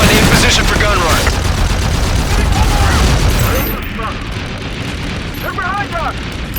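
Video game gunfire and explosions from a Call of Duty Infinite Warfare gun run, a dense loud roar of shots and blasts with radio-style voices chattering over it, easing slightly after the first few seconds.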